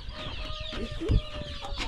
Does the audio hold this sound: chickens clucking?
yes